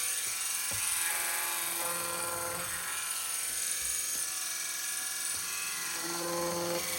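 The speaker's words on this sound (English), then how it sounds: "I'm just gonna go ahead and cut some squares to show you how quickly you can cut your squares for a rag quilt using this tool" Vevor electric fabric cutter slicing through layered squares for a rag quilt, a steady high motor whine with buzzing overtones that runs continuously, with faint clicks and slight pitch shifts as the blade moves through the fabric.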